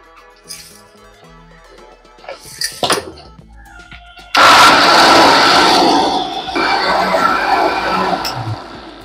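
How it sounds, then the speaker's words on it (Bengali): An electric mixer grinder whirring loudly as it grinds soaked soybeans, starting abruptly after a few clinks and knocks and running steadily, with a slight change in pitch partway through. "এটা আমি এখন বেটে নেব।"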